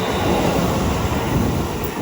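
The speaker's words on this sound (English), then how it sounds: "the train is 1615 London Overground service to London Euston" A London Overground passenger train rolls through Watford Junction on the West Coast Main Line, a loud, steady rumble of wheels and carriages with a faint high whine above it.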